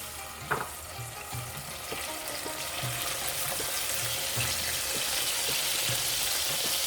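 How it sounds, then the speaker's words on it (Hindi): Milk poured into melted ghee with cardamom in a pan sets off a loud, steady frying sizzle that swells and holds, with a faint pop near the start. "साथ इसमें मैं थोड़ा सा दूध डालूंगी, ज़्यादा नहीं डालूंगी"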